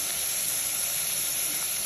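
Steady close sizzling of a seed tempering in hot oil in a pan, just after salt is added, a dense continuous hiss with no talk over it.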